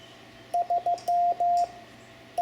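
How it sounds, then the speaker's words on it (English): Morse code for the digit 3 sounds as a clean, steady tone keyed in three short dits followed by two longer dashes, clear and close over faint background hiss, with the start of another tone cut off at the end. "3 is 3 dits and 2 dashes."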